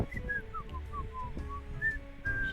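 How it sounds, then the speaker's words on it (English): A character in the video game Death and Taxes whistles a light, wandering tune of short sliding notes, faint and set over a low ambient background hum. "She's whistling while making my beverage."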